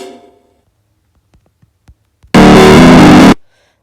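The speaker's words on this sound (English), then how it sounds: "I want to add distortion to the beautiful piano." A piano passage run through a distortion effect in FL Studio Mobile erupts as one loud, harsh, saturated burst lasting about a second, then cuts off sharply, preceded by faint clicks and near silence.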